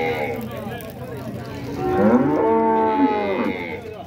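Dairy cows at a milk cattle fair in Dois Riachos, Alagoas, giving a loud, close, drawn-out moo that swells and fades over crowd murmur and faint voices.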